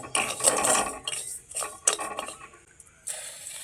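Two spoons of sugar being stirred in a kadai with a metal spoon: a few quick clinking, scraping bursts against the pan, separated by short quiet gaps.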